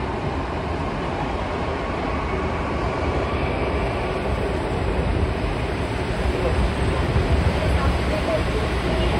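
Steady rumbling train noise with a broad whooshing roar inside a Mumbai metro carriage as the train starts to move, continuous and fairly loud, with faint voices in the background.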